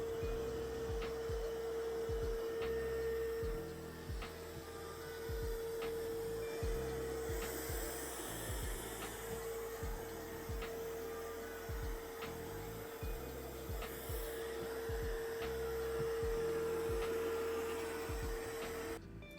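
A MOVA Z60 Ultra Roller robot vacuum runs across the floor with a steady, quiet motor whine and a rhythmic mechanical ticking beneath it. The hum stays continuous and close, and occasional faint rushes of airflow rise over it.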